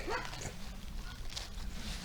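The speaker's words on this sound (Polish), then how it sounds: "Psy sołtysa szczekają" Village head's dogs barking somewhere off in the distance during a mushroom-foraging walk, faint yips and whimpers under a steady outdoor background.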